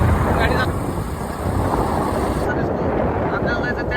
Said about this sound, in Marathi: आम्ही निघालो गाडीवर आणि गाडी चालतो